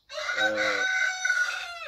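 A rooster lets out a single loud, close crow, a drawn-out cock-a-doodle-doo lasting well over a second.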